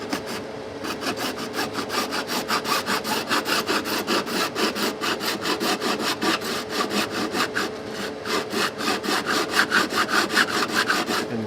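A metal file rasps along sharp fret ends on a Fender Affinity Telecaster neck in quick, even back-and-forth strokes, a close, dry scraping rhythm that continues alone throughout.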